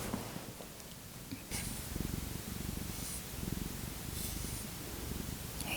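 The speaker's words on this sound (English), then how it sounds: "Are you purring?" A cat purrs up close in a steady, low rumbling rhythm that swells and settles with each breath, continuous and alone.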